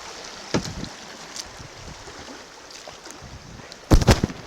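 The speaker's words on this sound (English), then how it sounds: "had to drop the camera there to do some paddling" A kayak paddled through a rapid on Antietam Creek, rushing water and wind hiss throughout with a few sharp paddle splashes and knocks, loudest near the end.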